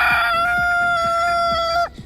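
A rooster crows in Kaifeng, China, one long, loud, close call that ends abruptly, while a steady rhythmic thumping runs faintly underneath.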